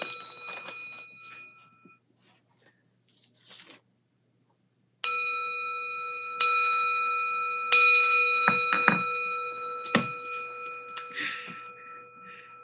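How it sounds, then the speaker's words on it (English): A hand bell rung during a talk on tenderness and wisdom: after a few softer strikes, a series of loud bright rings with long shimmering overtones that overlap and ring on, heard alone and close. "I'll ring the bell and see if people can hear it."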